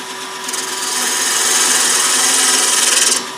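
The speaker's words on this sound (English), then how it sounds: "We'll use a bowl gouge to do that." A bowl gouge cutting wood on a lathe while turning a simple spin top, a steady close hissing shave that swells in and holds for a few seconds before stopping abruptly.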